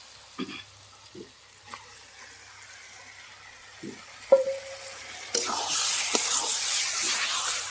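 Marinated chicken pieces dropped into fried masala and oil in a pan, setting off a broad, steady sizzle that rises suddenly partway through and carries on loud to the end after a few scattered clinks and stirs.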